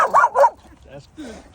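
A working dog gives two loud, close barks in quick succession, then quieter whimpering sounds follow as a person speaks softly nearby.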